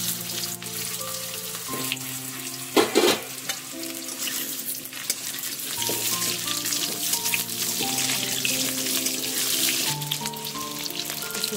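Potato pieces fry in hot oil in a wok, giving a steady loud sizzle with bursts of crackle and occasional stirring scrapes, no voices over it.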